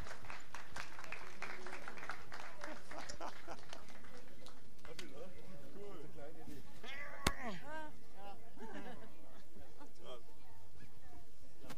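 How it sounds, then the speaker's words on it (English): Spectators applaud the medalists after a women's 10m air rifle standing SH1 para shooting final in Chateauroux, a scattered patter of clapping that fades while an announcer talks over the crowd. "So big applause for the medalists."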